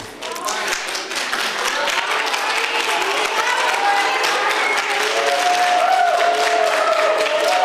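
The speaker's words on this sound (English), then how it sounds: "Let's applaud this gentleman that he lives in our audience." An audience applauds during a speech at a Munich conference, sustained dense clapping that grows slightly louder and continues steadily throughout.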